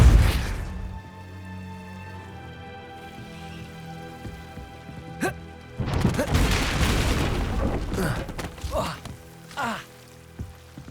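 A Depulso spell is cast in the Hogwarts Legacy video game: a sudden broadband whoosh and boom bursts out over sustained game music, followed by a few more scattered impact-like hits.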